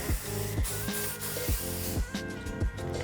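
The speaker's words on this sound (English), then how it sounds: "give them a really good spray with a light hairspray, nothing too heavy" Light hairspray misted onto freshly curled, waved hair, heard as several short hissing bursts over steady background music.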